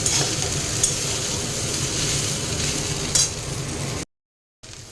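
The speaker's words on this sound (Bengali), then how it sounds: "এবার এটা ভালো করে নাড়াচাড়া করব একটু ভাজা ভাজা করে নামিয়ে নেব" Steady frying sizzle with scraping stirring strokes as flattened rice fries in ghee in a pan, close up, then a brief silent cut near the end.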